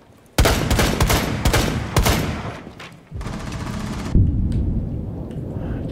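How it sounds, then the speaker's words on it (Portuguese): A grenade blast in the video game Rainbow Six Siege, with loud, booming bursts and rumbling crashes that roll on for several seconds before fading into a lingering low roar. "Deixa eu jogar uma granada ali"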